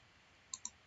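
Computer mouse right-click: two quick, sharp, faint clicks in close succession against a quiet background.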